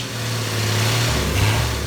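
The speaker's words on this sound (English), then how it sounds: "That there engine roared like an OM352 turbo engine should roar" A Mercedes OM352 turbo diesel engine roars steadily and loudly at close range, with a deep continuous drone that swells slightly partway through.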